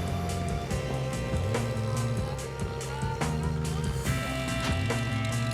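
A 1929 Bentley 4.5 litre climbs a wet hillclimb course, its engine a steady, throaty rumble holding a sustained drone with slight rises in pitch, fairly close and continuous throughout.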